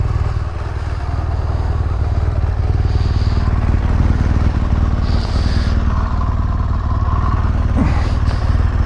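A BMW R1200GS boxer-twin motorcycle idles loud and close in a steady, unbroken throb with faint mechanical clatter and no voices.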